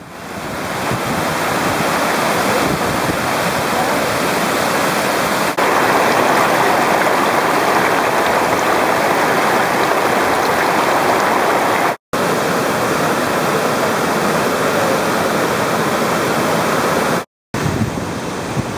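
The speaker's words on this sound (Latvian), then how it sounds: "Šitas te ir mazais ūdenskritums." Steady rushing of a small waterfall in Mondulkiri, Cambodia, a dense continuous roar of falling water close by, with no voices.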